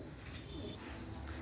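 Pakistani Teddy pigeons coo softly and steadily, a low murmuring call set against faint background noise, with one brief click near the end.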